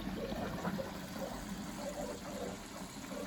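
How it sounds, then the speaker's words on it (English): A working washing machine left on the kerb takes on a lot of water, giving a steady, close, rushing hiss of inflowing water with a low mechanical rumble underneath. "It's taking on a lot of water."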